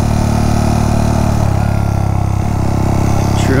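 Steady, loud engine drone from a Honda Monkey motorcycle on a trail ride, a close, even pulsing hum with no pauses and no talking.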